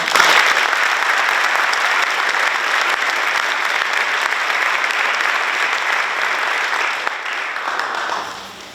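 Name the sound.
audience applause at ceremony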